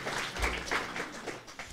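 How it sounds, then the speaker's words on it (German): Brief audience applause at a reading event, a soft patter of clapping from a seated crowd at moderate distance, fairly quiet and uneven throughout. "Auch für die bitte einen Applaus."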